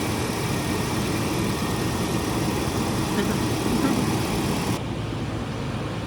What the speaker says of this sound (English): All we're doing now is just letting the engine idle and get up to temperature